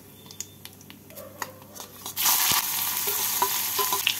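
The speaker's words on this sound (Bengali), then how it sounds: "পেঁয়াজগুলোকে বাদামি করে ভেজে নেব।" Two medium chopped onions dropped into hot oil over cumin tempering, first a few quiet clinks and taps, then a sudden loud close sizzle that holds steady with stirring scrapes.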